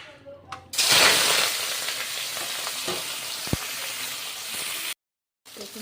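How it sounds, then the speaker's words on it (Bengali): Shrimp dropped into hot oil with fried onion and garlic, a sudden loud sizzle bursting out and holding steady, with faint stirring clicks, then a brief cut to silence before the sizzle returns. "পেঁয়াজ রসুন ভাজা করার মধ্যে আবার অল্প একটু তেল দিয়ে দিয়েছি এবার আমি এর মধ্যে মাছগুলো দিয়ে দেবো"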